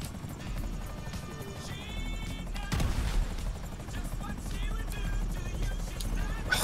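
Helicopter rotor drone with bursts of gunfire in GTA V Online, a steady mechanical whir running throughout with scattered shots and game effects layered over it.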